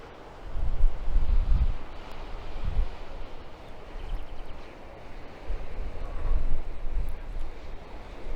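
Strong coastal wind buffets the microphone in low rumbling gusts that swell and fade irregularly, with a steady rushing hiss underneath and no voices.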